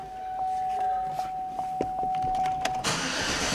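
A steady chime pings inside a Chevrolet Silverado pickup truck, followed by a few clicks and then the engine cranking and catching into a loud rumble at the end.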